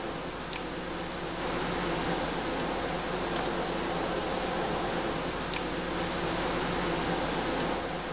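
Honeybees, worker females among them, buzz in a constant dense drone around a hive, a steady hiss-like hum with faint sharper clicks scattered through, heard alone without voices.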